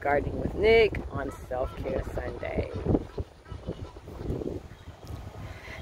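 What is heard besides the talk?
wind blowing outdoors in a garden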